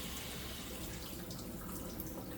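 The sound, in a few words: pouring regular water into a 1 cup measure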